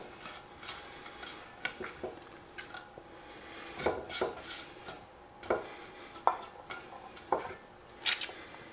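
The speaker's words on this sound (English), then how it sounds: "Going to mix that right in with the Swiss cheese." Potato tossed and mixed with Swiss cheese in a bowl, a run of close scraping, rubbing and sharp utensil clinks against the dish at an uneven rhythm, with no talking.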